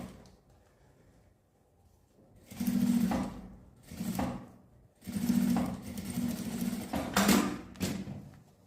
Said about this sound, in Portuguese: Aí eu venho com outro pedaço de viés e vou costurar ele aqui